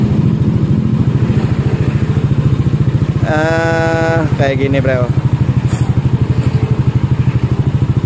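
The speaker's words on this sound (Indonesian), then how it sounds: "kita dengerin dulu idolnya, Bro ya, langsamnya seperti apa. Nah, yang ini lebih berat ngebasnya ya." A Yamaha Aerox scooter with a rebored original ROB1 exhaust idles nearby with a deep, heavy, evenly pulsing thump throughout, while someone speaks briefly over it midway.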